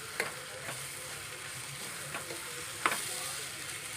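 Spoon stirring an onion and tomato bhaji with freshly grated coconut in a pan, with soft scraping strokes over a faint steady sizzle, close and quiet, no voices.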